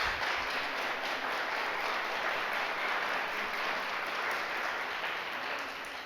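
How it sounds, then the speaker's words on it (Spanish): An audience at a lecture breaks into spontaneous applause, a steady wash of many hands clapping that holds evenly for about six seconds and fades slightly at the end. "Yo les iba a pedir un aplauso, pero qué bueno que fue espontáneo"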